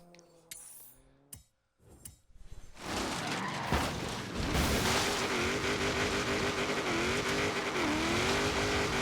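A rear-wheel-drive car in Forza Horizon 3 heading out to the Outback, brief menu-like tones giving way to a steady loud engine roar with gear shifts and tire noise, continuous and close.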